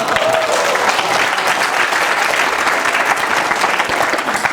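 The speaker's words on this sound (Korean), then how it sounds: "박수" A lecture audience bursts into sustained applause, a dense, loud wash of clapping that carries on without a break.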